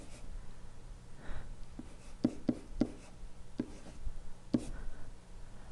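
Handwriting on paper while working math problems, with soft close scratching strokes and several sharper taps of the pen in quick succession, quiet and without talk.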